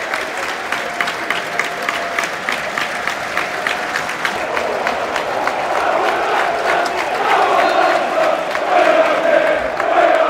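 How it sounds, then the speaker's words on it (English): A sold-out football crowd at a Millwall versus Leeds United match gives a minute's applause for earthquake victims, sustained dense clapping filling the stadium and swelling louder toward the end, with a faint murmur of voices. "We have a minute's applause now for the victims of the Libya and Moroccan earthquake."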